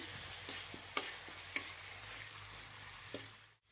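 Ginger frying in a pan, a faint, steady sizzle broken by a few sharp spatula taps before it cuts off.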